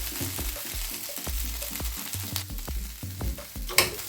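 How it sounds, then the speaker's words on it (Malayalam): Soya chunks fry crisp in oil in a pan, a low sizzle broken by repeated rhythmic scraping and stirring knocks from a spatula, close and steady, with a sharper scrape near the end. "സോയാ ചങ്ക്സ് നന്നായി ഫ്രൈ ആയിട്ടുണ്ട്, നല്ല ക്രിസ്പിയായി ഫ്രൈ ചെയ്തിട്ടുണ്ട്"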